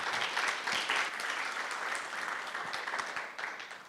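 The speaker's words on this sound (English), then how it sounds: "a huge round of applause for Jane, everyone." A conference audience at a women-in-construction event applauds in a steady, dense round of clapping that stays loud and even for the full length, with faint voices mixed underneath.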